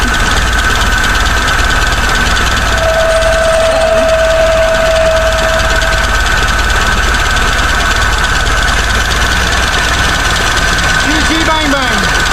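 A 1975 Chevrolet Vega engine idles roughly throughout, steady and rumbling, with a constant low drone and a faint high whine layered over it.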